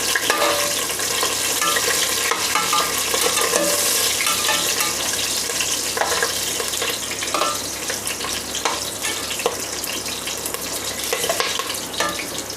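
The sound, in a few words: fennel and green chilies sautéing in a pan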